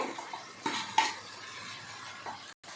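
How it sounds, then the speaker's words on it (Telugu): Okra hits a pan of frying ginger-garlic paste with a few clattering knocks of a utensil against the pan over a soft, steady sizzle, then a brief cutoff. "తర్వాత బెండకాయ వేస్తున్నానండి."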